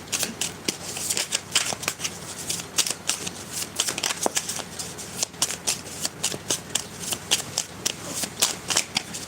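A deck of handmade tarot cards is shuffled over and over, the crisp riffling flutters and slaps repeating in quick irregular bursts close by.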